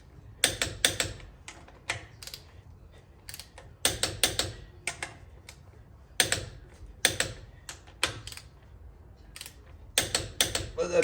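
Ratchet wrench tightening bolts on a rear brake backing plate of a Ford F-250 truck, a series of quick clicking ratchet bursts in close, uneven clusters with short pauses between them.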